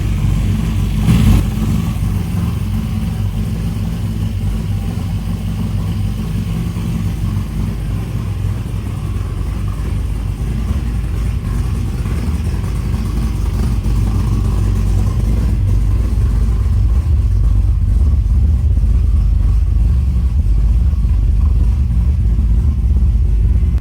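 A 1985 Chevrolet S10 Pro Street with a 406 Dart V8 and Turbo 400 automatic runs steadily, a loud, deep rumbling idle with a slight rev near the start, alone with no voices.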